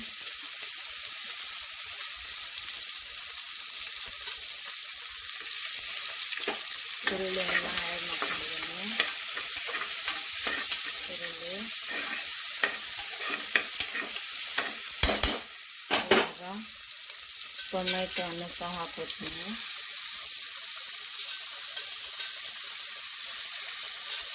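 Continuous close sizzling of onion frying in hot tempering oil with mustard seeds and garlic, with stirring and scraping sounds in places and a brief burst of crackling partway through.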